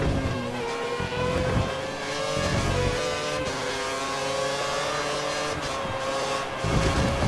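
A Sauber Formula 1 car in the F1 2013 racing game at the Spanish circuit, its engine held at full revs. A loud, sustained high-pitched whine holds steadily, with small pitch shifts as the car runs flat out.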